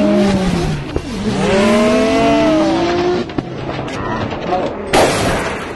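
A VTech Go Go Smart Wheels toy go-kart races down a plastic track playset while its electronic sound effects play loud engine-like sweeping tones and squeals. A sharp burst comes near the end.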